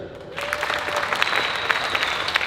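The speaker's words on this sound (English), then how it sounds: "Clap your hands if you live in New Jersey." Audience at a comedy roast of Jersey City's mayor breaking into clapping, a dense wash of many hands that builds quickly and holds steady.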